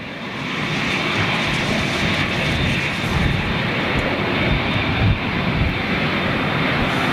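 A Boeing 737 jet lands at Manchester Airport with a loud, sustained engine roar that holds steady throughout, with a brief thump partway through.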